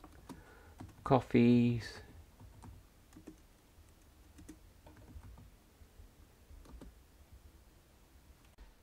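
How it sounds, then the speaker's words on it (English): Names being typed on a computer keyboard as a loose run of light, irregular key clicks under faint room noise, after a short burst of speech near the start. "So I've got all my names typed in now, or some of them typed in now, that I want to print."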